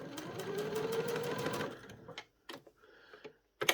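A sewing machine stitches a straight running stitch through double-layered felt appliqué numbers: a fast, steady rattling run for about two seconds, then a few short bursts of stitching, heard close and without talk.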